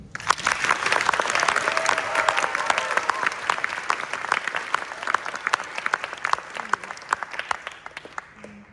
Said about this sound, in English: a round of applause please for all of them